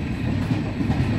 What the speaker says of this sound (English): As you can see, this train takes